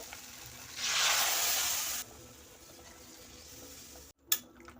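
Water poured into a pan of fried soybeans with poppy seed, mustard and five-spice mix bursts into a loud hissing sizzle that lasts about a second, then settles to a quiet simmer, ending with a brief clatter, no talk.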